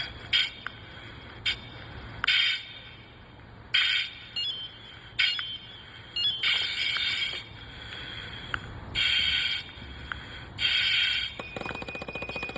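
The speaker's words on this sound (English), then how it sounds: "Low air alarm sounds at 1/4 of a tank." A breathing apparatus low-air alarm, triggered at a quarter tank, sounds high-pitched in repeated bursts with gaps between, mixed with bursts of breathing hiss, close and fairly loud.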